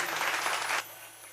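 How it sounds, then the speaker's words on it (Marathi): An audience at a devotional gathering breaks into a short burst of clapping that stops abruptly partway through, with no talking. "एकदा जोरदार टाळ्या."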